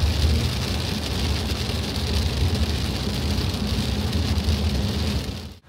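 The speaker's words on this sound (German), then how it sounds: "Der Regen wurde wieder stärker und es ist kalt." Steady cold rain pours down at the Dakar 2025 rally with a constant broadband hiss and low rumble, fairly loud and unbroken until it cuts off at the end.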